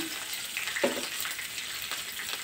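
Green chilies sizzle and fry in hot oil in a pan for a poha mixture, a steady soft crackle with a faint stir or clink.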